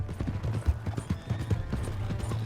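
Horse hooves clip-clop at a steady trot in Red Dead Redemption 2, a regular rhythm of close, clear hoofbeats over a low droning background, with no voices.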